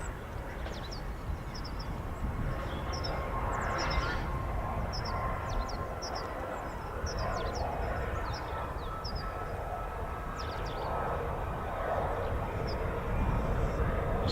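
An F-35B stealth fighter comes in to land with aerodynamic braking, a broad steady roar of jet engine filling the air for the whole stretch, with faint chirps and calls scattered above it.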